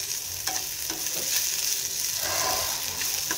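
Potatoes frying with poppy seeds in a pan give a steady, soft sizzle, broken by a few scraping stirs of a spatula.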